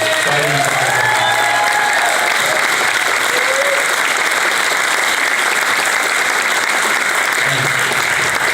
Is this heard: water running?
no